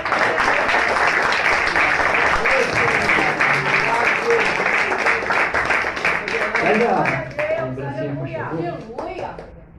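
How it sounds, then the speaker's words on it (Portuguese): Congregation applauding at a church service, a dense, loud, sustained wash of many hands clapping that eases off toward the end, with a voice speaking over it. "aplauda mesmo"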